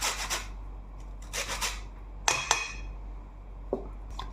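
Almond dough with lemon zest is mixed in a bowl, with close scraping and rubbing strokes in uneven bursts and a couple of light clinks against the dish, without talking.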